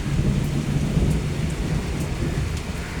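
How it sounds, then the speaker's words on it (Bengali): Heavy morning rain pours steadily while thunder rumbles low and continuous beneath it, with no one speaking. "দেখো সকাল থেকে কি বৃষ্টি শুরু হয়েছে"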